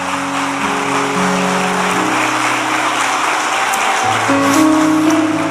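A church congregation applauding, sustained clapping at a steady loud level with a held organ or keyboard chord underneath and no speech.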